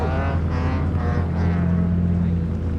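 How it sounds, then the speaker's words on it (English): Drift car engine at a Colorado drift event, held at a loud, sustained high-rev drone with a rough, buzzing tone and slight waver in pitch, close by and continuous. "Hard rev, baby."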